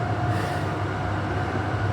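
A Fremantle line train stands at a station at night, giving off a steady loud mechanical hum and drone with a constant tonal whine and no voices.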